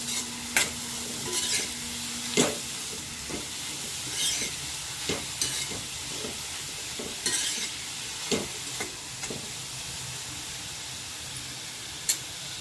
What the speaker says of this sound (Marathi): पालक सर्व टाकलं आहे आता मी परतून घेते